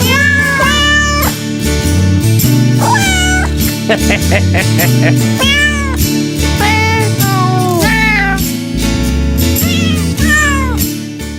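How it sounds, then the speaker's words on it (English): A song built from cat meows, with high, pitched mews rising and falling in a melody over a loud musical backing. "Listen to the little kitties. They're singing."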